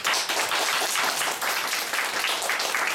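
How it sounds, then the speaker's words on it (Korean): Church congregation applauding together during a Sunday service, steady dense clapping from many hands filling the room for the full stretch, with no talk over it. "우리 박수 한번 합시다"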